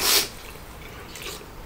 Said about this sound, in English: I don't know what's making me sneeze.